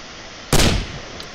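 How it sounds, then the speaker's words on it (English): A single loud explosion bursts out in the WWII Online battlefield, a broad sudden blast that rings briefly and then decays over about a quarter second, with a faint distant crack following later. "Something blew up anyway."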